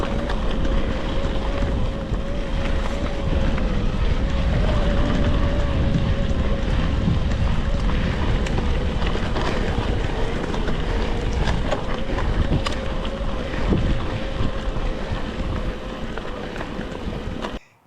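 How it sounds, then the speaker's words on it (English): Specialized Turbo Levo Gen 4 e-bike motor at full turbo assist, a steady loud drone with a sustained whine running throughout, mixed with wind and riding noise, no talk. "Here you can check out the noise from the motor full turbo on the standard spot right here"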